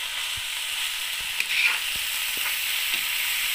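Boiled pevga, a Konkan monsoon wild green, is stirred into onion and chili frying in a pan. A steady, close sizzle runs throughout, with a few soft scrapes and clicks from stirring and no talking.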